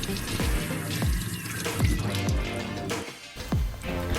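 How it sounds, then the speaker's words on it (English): Salted napa cabbage being rinsed in a basin of water for kimchi, with repeated sloshing splashes and drips as the leaves are moved and lifted, close and fairly quiet. "Wash the pickled baechu in the water."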